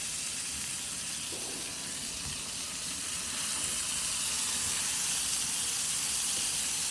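Burger meat cooks on a grill with a steady, even sizzling hiss that runs without a break from start to finish, moderately loud and close, with no voices over it.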